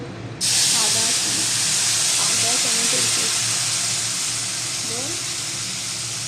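Cumin seeds poured into hot oil, bursting into a loud sudden sizzle that holds as a broad steady hiss, with a voice speaking beneath it.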